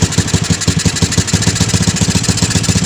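A motor tricycle engine revved gently, a steady close putter with a fast, even rhythmic pulse that stays loud and uniform throughout, with no voices.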